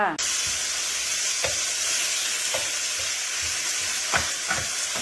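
Tomatoes, carrot and garden pineapple are stir-fried in a pan. A loud hiss of sizzling starts abruptly and holds steady, with occasional scraping clatter from stirring and no voices.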